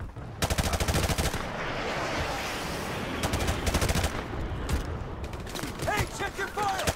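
Rapid video-game gunfire in a Modern Warfare Remastered battle, sustained automatic bursts rattling loud and close for most of the stretch, with shouted voices breaking in near the end.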